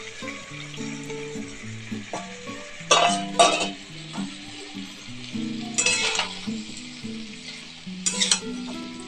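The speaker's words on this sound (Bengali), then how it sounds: "এরপর সব সবজিগুলো দিয়ে দিচ্ছি।" Mixed vegetables tipped into a pan with ginger paste for a paneer dish sizzle steadily while a spatula stirs and scrapes, with louder clattering bursts every few seconds; no one speaks.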